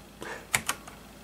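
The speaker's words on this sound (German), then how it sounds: "Da reagiert auch hier die Tastatur wieder." Typing on a computer keyboard: a few quiet, separate key clicks in a short burst, with no other sound.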